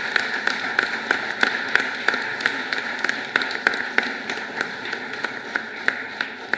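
Audience applause in a hall at a Royal College of Physicians of Ireland membership ceremony, heard as a steady run of evenly spaced, fairly crisp claps at moderate level with no talking.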